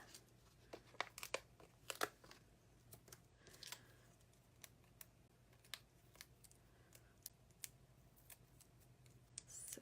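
Scissors trimming excess paper from a handmade card flower, a quiet series of short, crisp snips and paper rustles spaced irregularly, close up with no talk.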